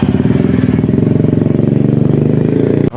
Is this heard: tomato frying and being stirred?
no